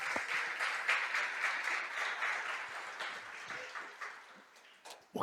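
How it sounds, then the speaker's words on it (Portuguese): A church congregation applauds the Lord during a sermon, producing a steady wash of many hands clapping at moderate distance that fades slightly toward the end, with no voice over it. "Você pode aplaudir o Senhor?"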